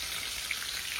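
Fish frying in a pan gives a faint, steady hiss with tiny crackles, quiet and continuous with no voices.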